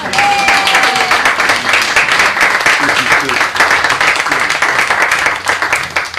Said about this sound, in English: Can we get another round of applause for that wonderful